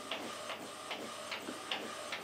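An Epson WF-2010W inkjet prints onto sublimation paper, its print head making quiet, regular swishing passes about every half second over a soft mechanical hum, fairly faint and with no voices.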